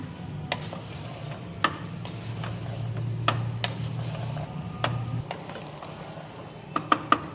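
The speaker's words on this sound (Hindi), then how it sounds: "इसको मिक्स कर लेंगे।" A spoon stirs and mixes potato and black chickpea chaat with green chilies and chaat masala in a bowl, making soft scraping under a faint background hum, broken by sharp clinks against the dish.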